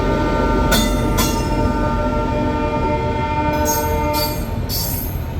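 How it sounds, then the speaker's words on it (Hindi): A Hisar–Ludhiana train pulls into platform 2 at Dhuri Junction after dark, giving a loud, steady rolling rumble with droning tones and a few short hissing bursts near the start and end. "तो ये सामने से कोई ट्रेन आ रही है 2 नंबर प्लेटफॉर्म पे"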